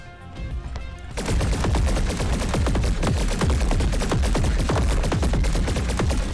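Rapid automatic gunfire in the Space Marine video game, a dense stream of loud shots that kicks in after a quiet second and keeps going without pause, no talking.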